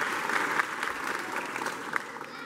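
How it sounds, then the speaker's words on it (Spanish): Applause from a festival crowd welcoming a guest, a steady dense wash of many hands clapping throughout, fairly even in level with a few sharper individual claps standing out. "La recibimos con un aplauso bien grande."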